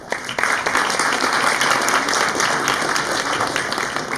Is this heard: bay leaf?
no